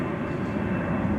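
A Qantas Boeing 787-9 Dreamliner at DFW Airport at night gives off a brief, steady low jet engine rumble that carries loudly, with no talk over it.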